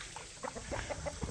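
Chickens cluck in a quick run of short, close calls in a farmyard at a dog-breeding farm, busy and continuous over a brief stretch.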